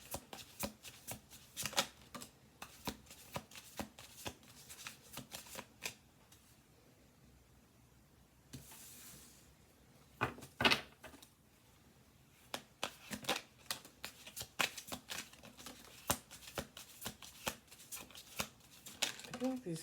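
A deck of slightly sticky, little-used cards being shuffled: repeated close riffling bursts and flicks, separated by a quieter pause in the middle.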